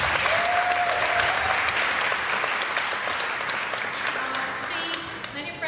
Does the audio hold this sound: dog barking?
no